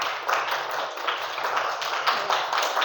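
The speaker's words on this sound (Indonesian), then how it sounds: "Tepuk tangan untuk Yawan" A class of students in an Indonesian school claps together in a brief, brisk round of applause, steady and fairly close, with no talking over it.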